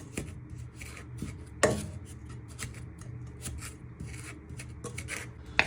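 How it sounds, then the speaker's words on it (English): Mixed fruit with lemon, orange and orange juice stirred in a pan for a Christmas fruitcake, soft wet scraping and rubbing with occasional clinks of the spoon against the pan, close and quiet. "we're just stirring our mixed fruit and our lemon, orange and orange juice in our pan"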